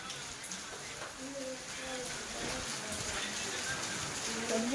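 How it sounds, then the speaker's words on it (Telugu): Summer rain falls steadily outdoors with a dense, even hiss and scattered drops throughout, moderately quiet, and a voice talks faintly underneath. "వాన చూస్తున్నారు కదా గైస్ ఎలా పడుతుందో"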